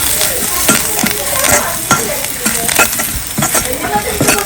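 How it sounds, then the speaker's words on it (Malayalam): Tempering with curry leaves poured into a pot of rice soup, giving a loud, close sizzle with bursts of crackling and spattering that surge and settle over a few seconds, with no voices. "നമ്മളതിൽ കരുവേപ്പില ഇട്ടു. എന്നിട്ട് മൂത്ത അതിലേക്ക് വറവിടുക"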